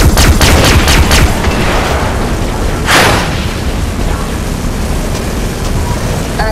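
Grenades going off in Far Cry 3 Blood Dragon on Xbox: a loud, dense burst of booming blasts and crackling debris at the start, one more sharp blast near the middle, then a steady rumbling roar of aftermath.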